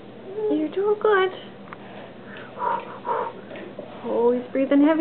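Young child breathing heavily while climbing stairs, panting breaths and sniffs mixed with an adult's encouraging voice talking over them in short bursts.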